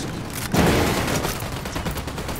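Gunfire in the video game Ghost Recon Wildlands: a loud burst of rapid shots erupts after a brief moment and rattles on as a dense, continuous fusillade.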